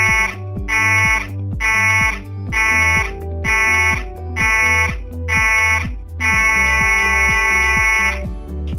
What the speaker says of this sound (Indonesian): Jika Anda mendengar bunyi alarm pendek 7 kali dan panjang 1 kali